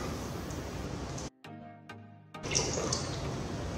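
Water from a tap runs and splashes into a blender jar sitting on a kitchen scale, a steady wash that cuts out briefly before pouring resumes.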